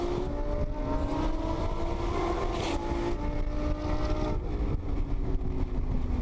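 A Lamborghini accelerates hard toward the red line and shifts gears, a steady loud engine roar with rising pitch sweeping upward, a brief change around the shift, continuous throughout with no talking.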